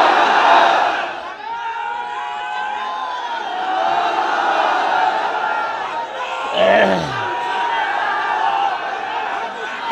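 A large crowd at an Islamic sermon gathering roars a takbir together, a loud sustained mass shout of many voices that swells and ebbs, with a second surge of chanting near the end.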